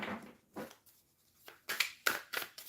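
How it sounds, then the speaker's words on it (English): A tarot card deck is shuffled in a few short, crisp riffles and taps, quiet and close, with brief gaps between bursts. "this deck shuffles nicely"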